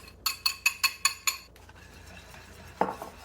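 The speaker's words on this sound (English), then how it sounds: "So now I am going to mix in my crushed BioGaia tablets." A spoon clinks rhythmically against a bowl about six times while crushed BioGaia tablets are stirred into a coconut milk yogurt mixture, followed by a quiet pause and one last brighter clink.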